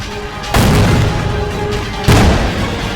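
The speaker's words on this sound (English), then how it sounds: "Yo, the explosions." Two loud explosions on a film set, the first at about half a second and the second near two seconds, each a sudden deep boom followed by a rumbling tail.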